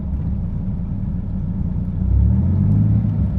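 A Dodge Viper driven with a manual transmission, its engine a low steady rumble that swells louder and deeper as it accelerates partway through, heard from close inside the car.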